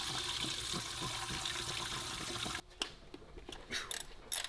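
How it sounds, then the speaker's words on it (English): Engine oil drains from a Dodge Demon car in a steady, splashing liquid stream that cuts off after a few seconds, followed by scattered drips and small clatters nearby. "we're about to drain the oil"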